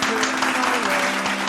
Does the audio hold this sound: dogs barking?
no